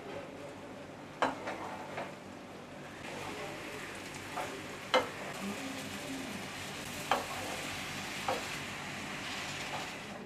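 Bombay duck and chopped fenugreek leaves being stirred into an onion tempering in a pan, with a soft continuous sizzle and a spatula scraping or knocking against the pan every second or two.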